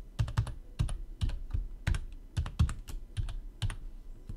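Someone types a password on a computer keyboard, producing a close, clear series of crisp key clicks in quick irregular bursts, with no voices over them.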